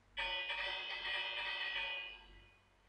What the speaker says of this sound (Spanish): Vamos a tocar la campana a ver si nos abren.